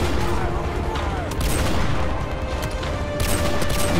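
Gunfire in the Modern Warfare 2 Remastered campaign: dense, continuous shots and bursts, loud and close, over a busy battle din with a voice talking.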